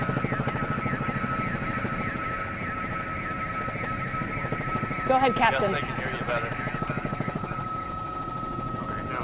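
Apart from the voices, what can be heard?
news helicopter flying above police chase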